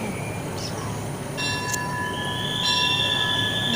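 A train rolls through Sisaket station in Thailand nearby, steady rumble with high metallic wheel squeals rising and holding toward the end, no talking.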